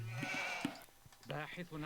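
Sheep in the Age of Empires video game bleat in short, wavering calls, loud and close, with someone talking over them.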